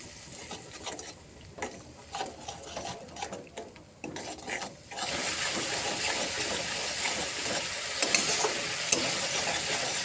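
Spice paste with turmeric and coriander powder sautéing in a pan with a splash of water, a steady close hiss and sizzle that grows louder midway, with scraping stirs and occasional clinks of a spoon against the pan.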